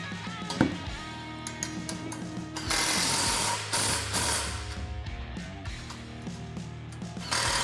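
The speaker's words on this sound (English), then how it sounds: "Then we'll go ahead and fully tighten our hardware." A ratchet wrench clicks in quick bursts as bolts are snugged down on a SuperATV spare tire carrier mounted to a Kawasaki Teryx 4, with metallic ratcheting spread through the clip and a couple of louder, denser stretches.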